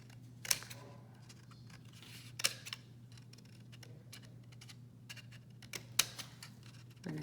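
Scissors cut along solid lines on paper in a quiet room, a few sharp isolated snips spaced seconds apart over a steady low hum.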